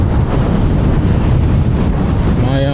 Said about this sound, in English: Oh my gosh, the wind.